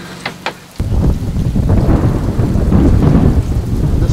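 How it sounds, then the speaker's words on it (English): Aboard an anchored sailboat in Greece, a sharp thunder crack and rumble hit, then heavy rain pours down in a steady roar with gusts of wind, loud and close. "Storm is directly overhead now. The wind's increasing, rain's really heavy."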